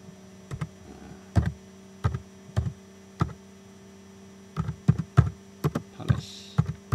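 Someone types a short annotation on a computer keyboard, producing irregular clusters of crisp key taps over a steady mains hum, with a brief pause midway before a quicker burst of keystrokes.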